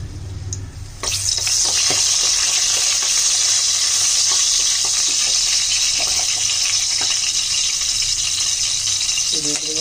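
Onions frying in hot oil in a kadai for an Odia fish and cauliflower curry give a steady, loud sizzle that starts abruptly after a second and continues close up, with faint stirring clinks.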